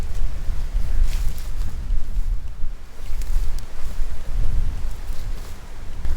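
Steady wind gusting and rumbling against the microphone, a continuous low roar with faint hiss on top and no voices.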